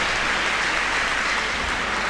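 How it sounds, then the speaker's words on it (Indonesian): Dense, steady applause from an audience honouring LDII at an Indonesian event on stunting prevention, a continuous wash of clapping with no distinct individual claps. "ini tepuk tangan untuk LDII ya."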